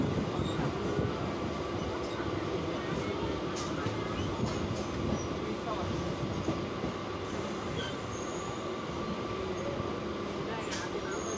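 Mail train running at speed between Panskura and Howrah, a continuous dense rumble of wheels and rushing air with faint clicks and brief squeals, close and sustained throughout.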